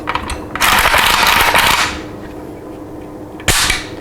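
The bolt of a Norinco NHM91 rifle with a blued finish is worked by hand, giving a loud metallic racking clack, a brief lull, then a second sharp clack near the end.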